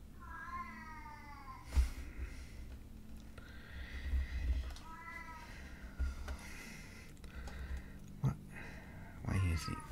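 A cat meows several times, rising drawn-out calls spaced a couple of seconds apart, fairly close, with soft bumps and room noise between them.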